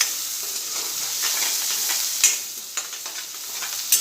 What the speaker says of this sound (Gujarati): હવે આપણે થોડો ફાસ્ટ ગેસ પર જ કાંદાને 2 મિનિટ સાતરી લઈશું।